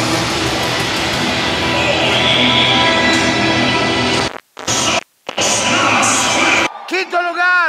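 A crowd at a Mexican rodeo event in San Luis Potosí shouts and whoops loudly as an announcer talks, the roar briefly cutting out before resuming and fading near the end.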